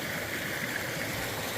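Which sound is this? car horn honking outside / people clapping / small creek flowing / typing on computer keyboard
small creek flowing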